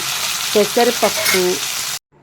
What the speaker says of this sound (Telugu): ఆవాలు, జీలకర్ర, ఎండుమిర్చి ఇవన్నీ వేసి పోపుని వేయించాలి